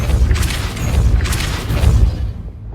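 In Hogwarts Legacy, a Depulso spell releases a heavy, rumbling magical blast with a deep booming body and airy whooshing on top, loud and sustained before fading at the end.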